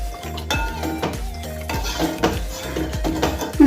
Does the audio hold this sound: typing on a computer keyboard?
no